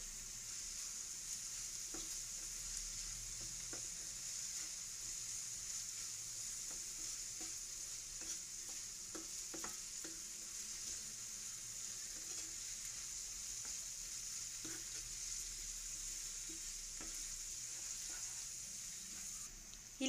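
Poha and salt stirred and cooking in a pan give a faint, steady sizzle with soft scattered scraping ticks from the stirring, quiet throughout.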